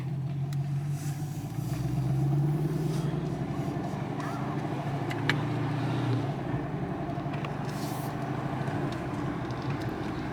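A Chevrolet Camaro driving with a muffler-delete MBRP exhaust, a low rumbling engine drone heard from inside the car that swells slightly as it pulls, steady and continuous, with faint voices underneath.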